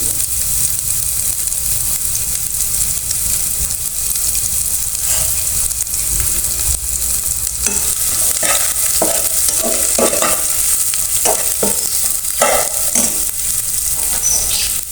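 Onion being fried and stirred in oil with a cumin-seed tempering and a bay leaf, a steady loud sizzle throughout with stirring scrapes and clinks growing more frequent in the second half.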